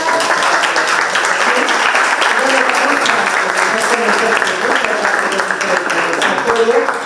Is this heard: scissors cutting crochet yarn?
no